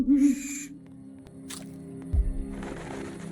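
An owl in the Roblox survival game 99 Nights in the Forest gives a clear, fairly loud hoot at the start, followed by quiet forest ambience and a soft thump.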